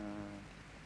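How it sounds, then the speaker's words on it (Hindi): Heavy rain pours down in a 1987 Hindi film scene, a dense, steady hiss of falling water filling a brief moment with no other sound. "अरे बारिश बहुत हो रही है भाई"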